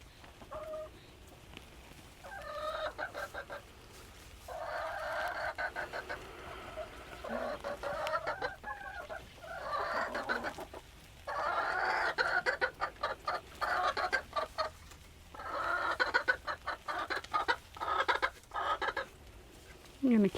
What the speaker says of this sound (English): How are our chickens?